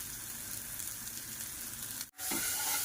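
Steady hissing sizzle of spices frying in hot oil as a tempering for dal, close and continuous, with a brief stir or clatter near the end.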